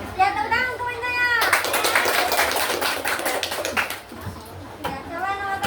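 A group of children in a classroom clap their hands in applause, a burst of dense, scattered claps lasting a few seconds between stretches of a child's speech.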